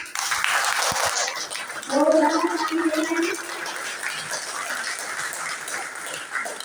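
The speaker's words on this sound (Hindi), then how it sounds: "तो एक बार अपने धरती के लिए ताली बजाइए," A meditation class audience claps together, a broad, steady patter of hand claps that fills the whole stretch. A voice speaks briefly over it partway through, and the clapping carries on at an even level to the end.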